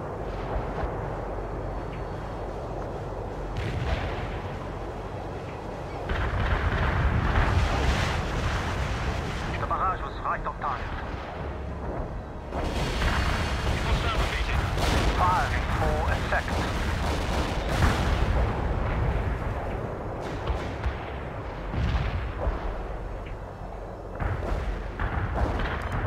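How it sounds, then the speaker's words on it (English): Heavy artillery barrage in the real-time strategy game World in Conflict, a sustained roar of overlapping distant blasts and rumbling impacts with brief sharper cracks, under occasional radio-style voices. "Heavy artillery firing for effect."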